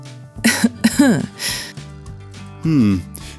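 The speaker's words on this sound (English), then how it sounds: "what if someone coughs?" Several harsh, close coughs come in a quick cluster, then another rough cough follows after a short pause.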